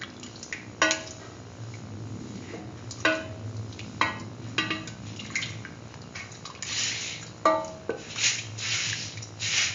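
A spoon stirs chocolate powder into coconut milk soup with vermicelli, giving soft liquid swishes and several sharp clinks against the pot in an uneven rhythm, close and fairly quiet.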